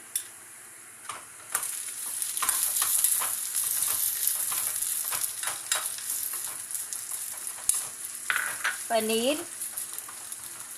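Paneer sizzling and frying in a pan over a low flame, a steady broadband crackle running throughout with a few stirring clatters and a brief squeak of utensils near the end.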